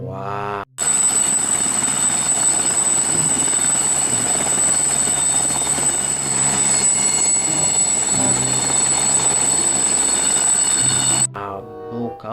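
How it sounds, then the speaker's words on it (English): A helicopter drones loudly and steadily for about ten seconds, its sound starting and stopping abruptly, with a high whine over a broad rotor roar. "Oh no, friends, it's a helicopter."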